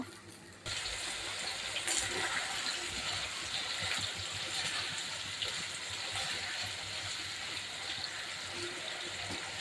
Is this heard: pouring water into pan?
yes